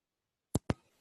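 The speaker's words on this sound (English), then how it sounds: "I was just typing a note" Two sharp keyboard key taps about a sixth of a second apart, close and clear in an otherwise quiet room, while a note is typed.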